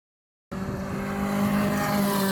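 Race cars at Thruxton Circuit on a Mission Motorsport Race of Remembrance launch day cut in abruptly after a moment of silence, a loud, close engine roar that holds and swells steadily.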